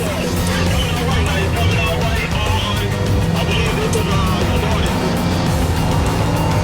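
A police car drives fast along a dusty road during a chase, its engine and tyre rumble steady and loud throughout, with faint voices mixed in underneath.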